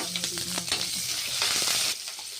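Onion and garlic fry in oil in a pan for a green chilli and ridge gourd chutney, giving a steady close sizzle with a few light utensil taps near the start; no one speaks.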